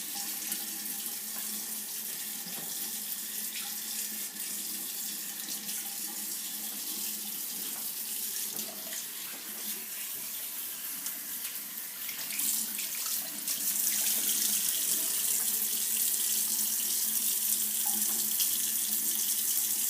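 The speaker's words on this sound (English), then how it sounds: "once you wash the charcoal mask off and you get it out of all of your nooks and crannies" Tap water runs steadily into a sink while a charcoal face mask is rinsed off, a continuous splashing stream that grows slightly louder and brighter partway through, with no talking.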